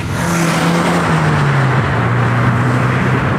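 A Porsche 944 S2 with its three-litre engine pulls hard in a loud, close, continuous drone whose pitch slides gradually through the run, with no talking.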